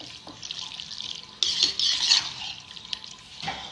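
Creamy fettuccine alfredo with olives being stirred: soft, wet, squelching sounds with a brief louder stretch in the middle, close by and without talk.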